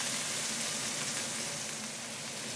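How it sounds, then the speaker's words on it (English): Meat for a pot roast sears in hot, smoking oil in a pan, giving a steady, close, even sizzle and hiss that holds at the same level throughout with no talking. "take the time to sear this completely on all sides, including the ends as you see here"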